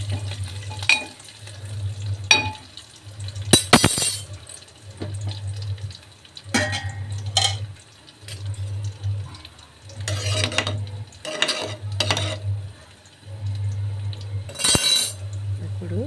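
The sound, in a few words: frying curry leaves for tempering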